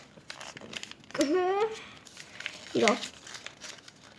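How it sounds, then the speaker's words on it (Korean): Colored paper crinkles and rustles as it is folded toward the center to make a paper airplane, with soft crumpling bursts between short bits of a woman's instructional speech. "여기 이걸 이렇게 가운데로 접어주세요"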